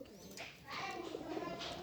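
A local pigeon coos softly in low, throaty rolls while a voice murmurs in the background.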